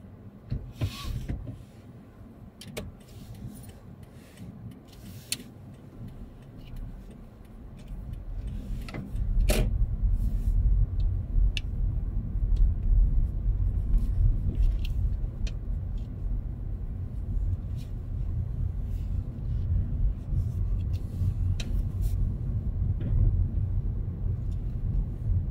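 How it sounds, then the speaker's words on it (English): A car pulls away during a UK driving test in Darwen, Blackburn with Darwen; quiet ticking indicator-like clicks come first, then the engine rumble swells and holds steady as it drives off. "Drive off again when you're ready,"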